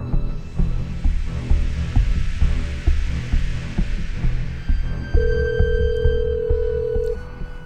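A phone rings indoors, a steady electronic tone emerging over a throbbing low hum and pulsing rhythm, alone without any talk.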